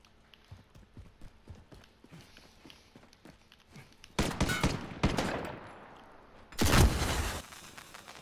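Blind gunfire in a smoky shooter video game: quiet faint footsteps and scattered taps at first, then two loud bursts of rapid shots, the second sharper and heavier, with no talking.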